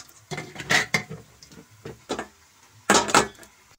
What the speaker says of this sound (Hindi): अब मैं इस कुकर में वापस डाल देती हूँ साग को।